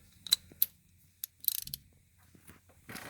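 A ratchet snugs down the bolt of an LS roller rocker arm, giving a few sharp close clicks and short rattling bursts separated by quiet gaps.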